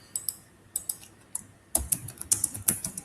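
Keys clatter on a computer keyboard during invoice layout setup, with sparse clicks at first, then a denser burst of close, crisp keystrokes.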